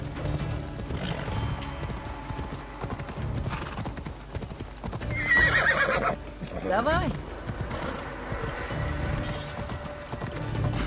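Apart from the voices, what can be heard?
horse galloping in a video game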